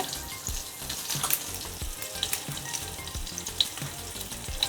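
A pinch of asafoetida hits hot oil with finely chopped green chilli for Maharashtrian tomato saar, giving a loud, continuous crackling sizzle with sharp spits and pops, nothing spoken.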